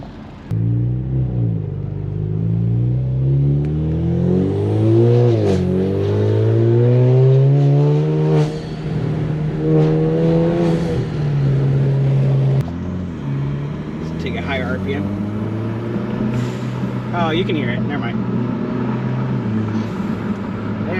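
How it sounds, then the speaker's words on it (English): An Alfa Romeo Giulia engine revs up through rising pitches, its intake whooshing loudly and steadily, with a few short remarks spoken over it. "What's funny is the intake's actually very overpowering."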